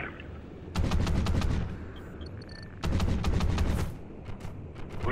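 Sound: gunfire in Call of Duty: Ghosts video game

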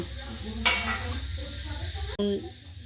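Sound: plates and dishes clinking as mother serves rice

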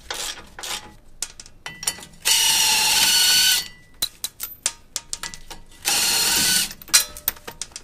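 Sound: ratcheting breaker bar with 19 mm deep socket loosening bolts

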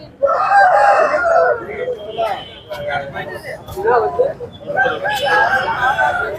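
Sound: rooster crowing at chicken market

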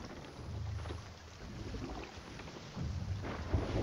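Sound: thunderstorm at sea in the video game Sea of Thieves

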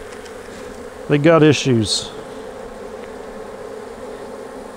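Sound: honeybees fanning in an unsettled hive

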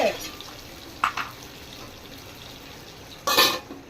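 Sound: putting the lid on a pot of brinjal curry

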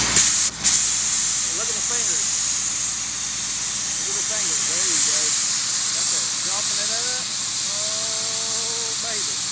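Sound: cutting torch lit for pipe beveling

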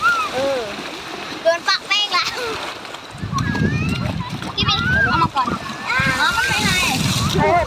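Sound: child splashing and playing in water

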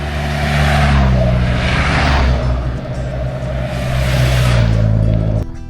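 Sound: motorcycle passing by

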